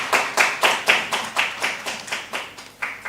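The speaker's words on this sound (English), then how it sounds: "Everyone, please give a round of applause." Clapping at a national conference on empowering voices in North East India, Manipur: about a dozen sharp, evenly spaced claps at a steady rhythm, close and fairly loud, with no talk.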